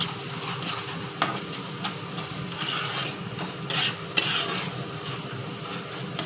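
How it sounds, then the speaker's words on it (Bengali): Potatoes with turmeric and spices being stirred in a pan: a continuous sizzle with repeated scraping and clinks of a utensil against the pan, with no voices. "এগুলো আমি সব ভালোভাবে এই মশলার সঙ্গে মিশিয়ে নেব"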